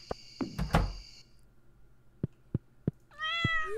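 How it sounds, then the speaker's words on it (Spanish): In the Stardew Valley video game, a cat lets out a short meow, followed by a few soft taps and clicks and a final rising, warbling meow, all fairly quiet with no speech. "Mira, gato, todo el día durmiendo en la cama."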